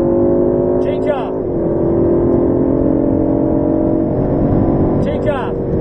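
An Aston Martin Vantage on the Silverstone circuit, its engine droning loud and close with rising revs, a gear change near the middle and another near the end, while an instructor's voice talks over it.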